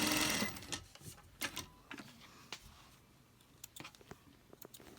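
Home sewing machine double stitching around the edge of a fabric face mask with a nose wire, quiet and intermittent, with short bursts of needle clatter separated by pauses and small handling clicks.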